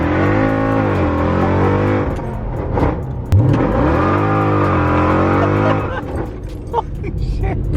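A loud straight-piped BMW M3 engine revs hard and close, pitch sweeping up and down through repeated throttle blips, ending in rough crackling pops.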